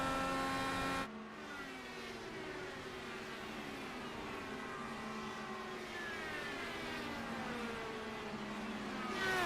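Indy race cars lapping the Homestead oval in a Gulf Coast IndyCar series race, engines droning steadily at high pitch with layered cars overlapping and shifting tone as they pass, loud and continuous throughout.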